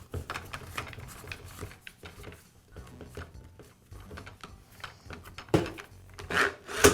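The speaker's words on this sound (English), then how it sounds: "I'll finish up by reinstalling the cartridge holder" A Milwaukee caulk gun's cartridge holder is refitted by hand, with close-up scraping and rubbing, knocks, and clicking contact of the parts in an irregular sequence that grows louder toward the end.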